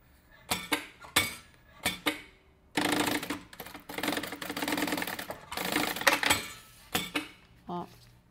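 Short bursts of a sewing machine stitching the side of a bag, rapid rattling runs broken by pauses and clicks, with someone speaking between runs.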